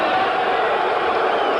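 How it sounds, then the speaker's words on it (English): A boxing crowd at the Pacific Coliseum in Vancouver, during Muhammad Ali versus George Chuvalo, raises a loud, continuous roar of booing that fills the whole moment without a break. "Boos coming up from the crowd at the Pacific Coliseum"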